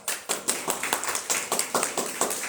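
A small group welcoming a guest speaker to a class claps in a quick, evenly spaced series of sharp individual claps, close and moderately quiet, with no talk over it.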